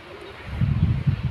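Pigeons give a short run of soft, low, throaty coos against a windy background after a brief quiet start.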